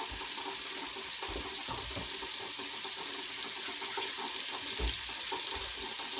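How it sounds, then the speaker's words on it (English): Tap water runs steadily into a sink for hand washing after handling raw meat in a home kitchen, a constant broadband splash with no talking. "Now that I've touched some raw meat, I'm going to go wash them again."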